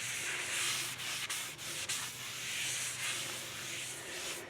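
Paper towel soaked with brake cleaner rubbing over a Mitsubishi Raider front brake rotor to remove oil from the pad contact surfaces; a close, continuous scrubbing swish with brief sharper scuffs partway through.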